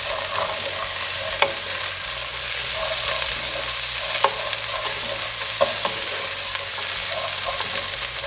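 Chopped carrots, potato and beans stirred as they fry in a pan, a steady close sizzle with a few sharp spoon scrapes and knocks breaking through at intervals.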